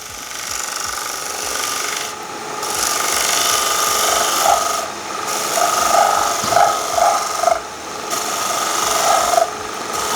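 A woodturning tool lightly cuts wood spinning on a lathe, throwing off fine shavings. The steady, continuous scraping rasp wavers slightly in strength and plays alone, with no talking.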